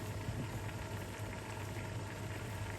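A pot of Thai red curry with chicken and winter melon boils steadily, giving a continuous close bubbling and simmering hiss with no voices.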